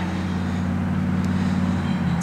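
Steady low rumble of trucks passing outside a store at dusk, a continuous near engine drone with no breaks and no voices.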